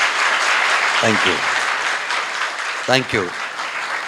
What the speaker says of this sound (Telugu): గట్టిగా చప్పట్లు కొట్టి 100 జరుపుదాం.